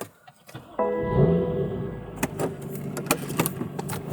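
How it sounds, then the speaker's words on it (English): A BMW M3 started and pulled out for a short test drive, with a sudden engine start followed by a steady idle and drive-off rumble, plus sharp clicks and knocks from the car, and no talk. "let's take the M3 out for a little spin and see if we are rubbing at all"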